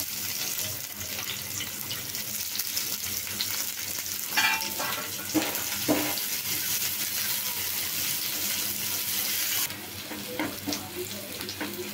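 Sliced onions frying in oil in a wok, a steady close sizzle with occasional scraping stirs and brief louder crackles, the sizzle dropping slightly near the end.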